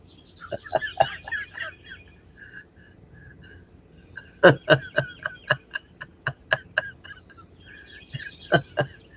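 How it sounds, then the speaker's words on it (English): Birds singing in the morning: a nearby songbird delivers repeated sharp, rhythmic chirp phrases in several bursts, with fainter calls behind, and no talk. "if people want to just listen to the birds, they have that option"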